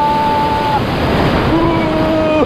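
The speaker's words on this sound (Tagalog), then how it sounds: "Malakas yung alon, no?" Loud, continuous surf with strong crashing waves on a white-sand beach in Palanan, Isabela, and wind rushing over the microphone, with faint tonal engine-like hums drifting underneath.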